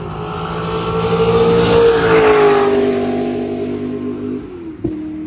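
A Chevrolet C4 Corvette race car accelerates hard on track, its engine note climbing loudly and steadily through a long pull, then fading and dropping away before a sharp knock near the end; no talk.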